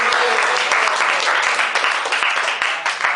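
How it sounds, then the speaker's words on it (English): An audience gives a burst of enthusiastic applause after a classroom storytelling presentation, many hands clapping densely and loudly throughout, with faint voices mixed in. "let's give a big applause for the presentation"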